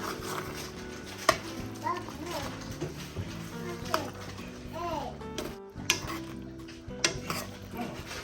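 Shrimp, spinach and peppers stirred in a pan at home, scraping utensil clinks and soft sizzle-like clatter recurring every second or so, with people talking over it.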